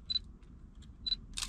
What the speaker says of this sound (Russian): Это звук э, пиканья, когда автофокус сработал